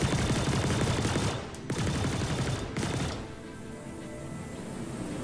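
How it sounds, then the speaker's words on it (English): Ship weapons firing in the space combat game Star Citizen during a bounty-hunting dogfight, a dense, loud, rapid stream of shots that pauses briefly twice before easing into a quieter rumble. "Put pot shots on to keep the shields from coming back."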